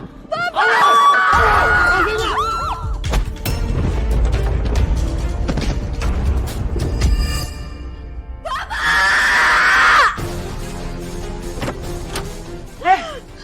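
A person screams and shouts loudly in the morning in two long, high, wailing bursts, with busy clattering and thumping household noise in between.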